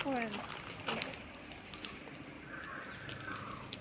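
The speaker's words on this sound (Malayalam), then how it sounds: "കാക്ക വിരുന്ന് വിളിക്കുന്നു" A crow caws a few times at the start, fairly close, then quieter background sounds continue.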